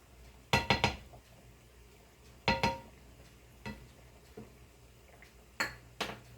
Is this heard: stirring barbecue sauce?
yes